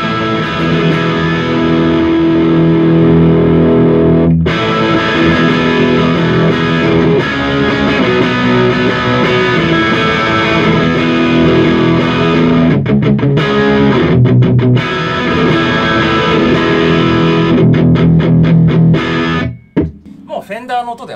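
Electric guitar runs through a Behringer GDI21 pedal set to high-gain distortion, playing loud sustained chords and riffs with short stops and choppy muted bursts, and a voice speaks briefly at the end.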